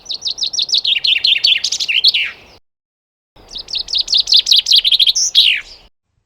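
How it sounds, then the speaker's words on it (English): Chaffinch singing at dawn on a UK smallholding: two loud, close phrases of rapid descending chirps ending in a flourish, separated by a brief silence. "Listen to the chaffinch."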